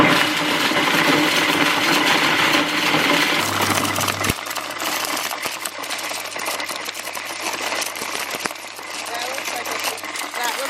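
Small machine grinding and cracking seeds for animal feed, a continuous loud whirring, rattling drone with intermittent clicks throughout, close by, with a voice speaking over it.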